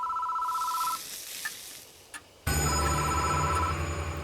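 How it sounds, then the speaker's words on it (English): In the video game Death Mark, a telephone rings in short electronic bursts, at first faint and distant, then breaks into a louder, sustained ringing with a buzzing undertone. "The phone is ringing."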